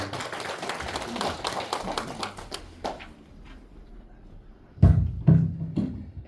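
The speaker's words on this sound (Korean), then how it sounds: "뜨거운 박수를 드립니다" A small crowd at a Guri apartment residents' briefing claps for local officials, scattered hand claps that thin out and fade, followed by a few sharp, close thumps or taps with speech nearby.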